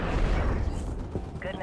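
A missile explosion in Call of Duty: Ghosts heard as a heavy rumbling boom that fades out, with radio chatter over it.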